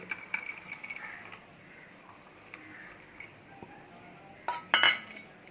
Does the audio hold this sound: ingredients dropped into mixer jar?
yes